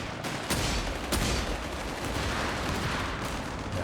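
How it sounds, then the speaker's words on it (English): Double grenade launchers fire during a competitive video game match, with dense, loud bursts of explosive gunfire and artillery-like thuds layered continuously without a break. "the double grenade launchers are going to work now"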